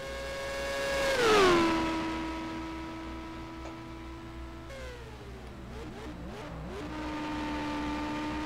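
Simulated IndyCar engine at Road America in the NR2003 racing game, loud and continuous, revving high then dropping through gear shifts with downshift blips and a steady drone again near the end.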